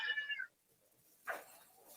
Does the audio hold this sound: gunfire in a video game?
no